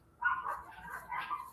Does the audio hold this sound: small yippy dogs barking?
yes